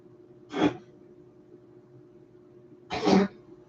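A pet cat coughs twice indoors, two short harsh bursts about two and a half seconds apart over a quiet background hum.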